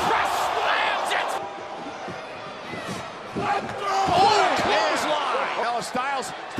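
A wrestler lands a military press slam in a WWE match, and a heavy impact thuds against the ring amid a roaring arena crowd, with excited commentary running over it.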